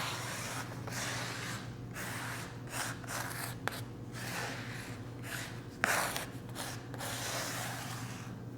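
Bondo blade spreading protective sealer over a SkimStone concrete veneer countertop, soft close scraping strokes repeated in an uneven rhythm over a low steady hum, with a couple of faint clicks.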